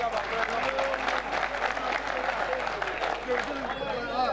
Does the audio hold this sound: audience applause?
yes